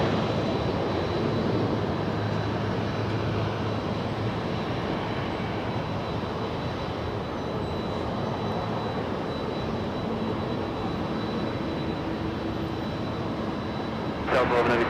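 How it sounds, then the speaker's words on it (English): A WestJet airliner landing at LAX: a steady, broad jet engine roar that stays loud and constant throughout, with faint talk underneath. "Let's go take a look at the WestJet that just went past us, about to touch down"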